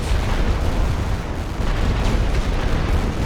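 Artillery fire in the World War One game Great War Western Front, a loud, continuous rumbling barrage of booms and blasts that fills the whole stretch without a break.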